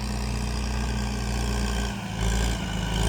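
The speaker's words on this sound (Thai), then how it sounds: "มาแล้วจ้ามาแล้วจ้ารถไถ M108 S นะคะ" An M108 S farm tractor engine drones steadily close by as it ploughs overgrown grassy ground to open soil for rice paddies, with a brief dip in the low rumble near two seconds.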